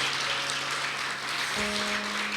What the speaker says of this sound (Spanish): Démosle un aplauso al Señor por esos dos amigos tan preciosos